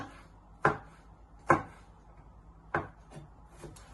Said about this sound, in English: Then bring it all back together and chop it into little pieces.